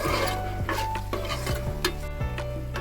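Sliced onions sizzle in hot oil in a pan for a fish curry, with a steady frying hiss broken by repeated scrapes and clinks of a spoon stirring against the pan, close and continuous, with no talking.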